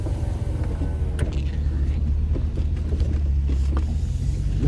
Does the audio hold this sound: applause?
no